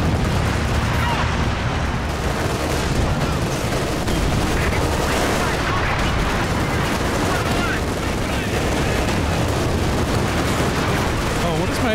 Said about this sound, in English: My SU wants to keep shooting the wood.